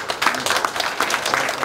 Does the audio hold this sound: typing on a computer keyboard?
no